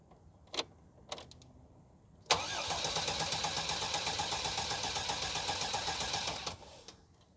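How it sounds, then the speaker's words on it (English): A 1997 GMC Safari van with a low battery: a couple of faint clicks, then the starter cranks for about four seconds with a rapid, even chugging rhythm before cutting off abruptly, close and unaccompanied by talk. "And I'm going to try to crank this time."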